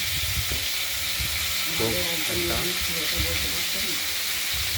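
Vegetables sizzle and hiss continuously in a hot wok, with a faint voice briefly audible under the frying.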